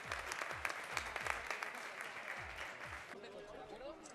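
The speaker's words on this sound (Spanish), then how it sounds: "Un aplauso" A crowd applauds at the Real Madrid Audi car handover event, with dense, steady clapping that thins toward the end, heard from some distance.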